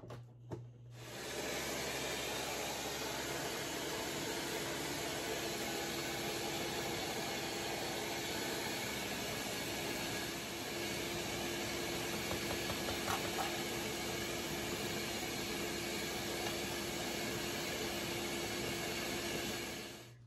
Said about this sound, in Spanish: los motores de mi licuadora aguanten